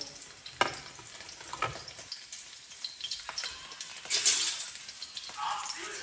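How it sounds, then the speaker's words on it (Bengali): Leftover rice fries in a pan at night in a home kitchen, with soft sizzling, scraping stirs and occasional clinks of a utensil against the pan, fairly quiet and close. "তাই একটুখানি ভাতটা ভেজে নেবো।"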